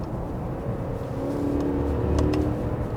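A Genesis G90 flagship sedan with an 8-speed automatic accelerates, its engine note rising smoothly and fairly softly from inside the car, with brief upshift transitions as the revs build.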